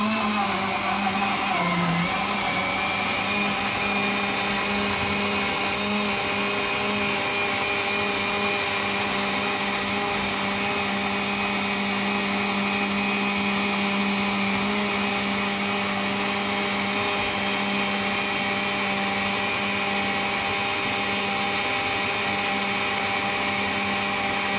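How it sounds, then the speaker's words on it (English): An electric blender runs continuously, whirring steadily as it blends ice cream, bananas, strawberries and yoghurt into a drink, a loud, even motor drone with no talk over it. "Just gonna switch my blender on and let's get blending."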